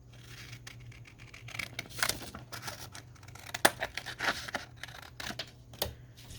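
Scissors snip and trim paper for an autumn Thanksgiving junk journal, a series of close, crisp cuts and rustles in an irregular rhythm.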